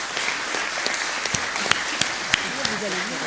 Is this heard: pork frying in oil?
no